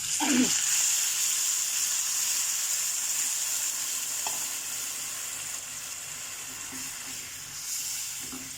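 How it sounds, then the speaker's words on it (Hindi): Half a cup of water poured into a pan of frying pumpkin masala sets off a loud, steady sizzle and hiss that carries on evenly, with a few soft stirring clicks. "तो इसमें अब हम हाफ कप पानी ऐड करेंगे"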